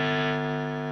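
A single sustained, distorted electric guitar chord rings out, thick and buzzing, fading only slightly over a second.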